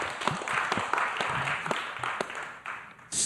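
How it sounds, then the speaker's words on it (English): Audience applause at a live podcast-style event, a dense wash of clapping from many hands at moderate volume, steady for a few seconds and fading slightly toward the end. "Give a big round of applause."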